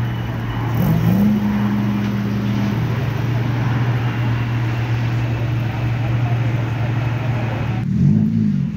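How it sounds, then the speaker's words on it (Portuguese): A loud car engine revs up and drones steadily, its pitch rising again near the end as it accelerates away. "Acelerando, indo embora."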